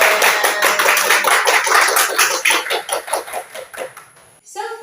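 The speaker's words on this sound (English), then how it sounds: "let's have a good job clap." A classroom of students claps together in a quick, rhythmic burst of hand claps, fairly close and lively, fading out near the end.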